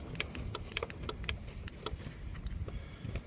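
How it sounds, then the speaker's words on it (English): A remote switch wired to a Chinese corrugating machine clicks, a run of quick, sharp, close ticks in an irregular rhythm over a low background hum. "I don't know if you can hear it clicking."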